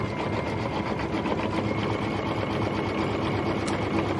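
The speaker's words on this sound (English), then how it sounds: "I'll be back when we get finished with all of the stitching." An embroidery sewing machine stitching steadily, a continuous fast mechanical whir and needle chatter, close and loud with no pauses.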